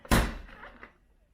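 A car door slammed shut, one solid close thunk with a brief rattle after it, near and fairly loud, then quiet.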